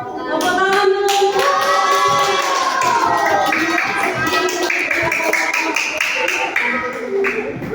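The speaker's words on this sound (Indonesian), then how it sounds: "Tepuk tangan dulu." An audience claps hands after a speech, dense and close, while music with a sung melody plays over the clapping and carries on throughout.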